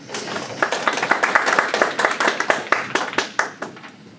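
An audience at a housing policy seminar bursts into applause, a dense spread of many hands clapping that swells and then thins toward the end, loud and near.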